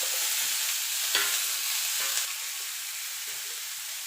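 Tomatoes and green chillies fry in a hot pan with ginger for paneer butter masala, a steady soft sizzle broken by a few stirring scrapes, close and even throughout with no talk.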